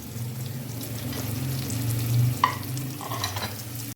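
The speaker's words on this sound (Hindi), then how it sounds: "सबसे पहले मैं प्याज में ऐड कर रही हूँ नमक, ताकि प्याज अच्छे से सौते हो जाए।" Salted onions sautéing in a pan give a steady close sizzle, with a few soft clinks and stirring scrapes near the end.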